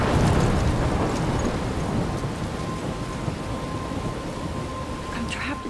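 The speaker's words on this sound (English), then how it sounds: "I'm trapped in a storm?" A thunderstorm in the video game Life is Strange: heavy rain hisses continuously on surfaces while a low rumble of thunder rolls beneath it, loudest at the start and then settling into a steady downpour.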